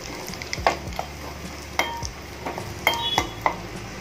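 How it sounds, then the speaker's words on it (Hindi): Dried whole red chilies sizzle in hot ghee, crackling with a soft hiss, punctuated by a few sharp clinks of a spoon against a pan. "अब घी हमारा गर्म हो चुका है, इसमें मैंने लाल मिर्च ली है खड़ी वाली, ये डालते हैं"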